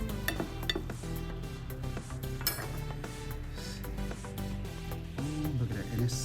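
Knife slicing into a roasted Cornish hen on a plate, with scattered clinks of metal on dishware and scraping against a steady background.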